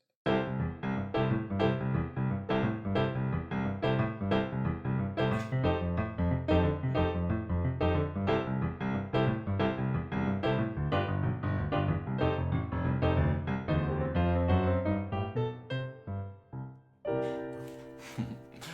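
Solo piano playing a bouncy, driving boogie woogie groove with a steady rolling left hand and chords, close and clear, ending on a held chord.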